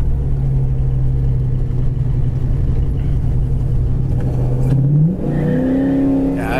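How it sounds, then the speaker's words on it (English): A 1970 Chevelle Super Sport accelerates hard, breaking its tires loose, a loud, close engine rumble that holds steady and then swells into a rising rev near the end. "it just breaks the tires loose"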